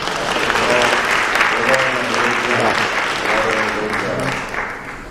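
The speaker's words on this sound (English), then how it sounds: "we also have to give the candidates a big round of applause" An audience at a village trustee debate applauds the candidates, a dense, loud round of clapping that holds steady before tapering off at the end.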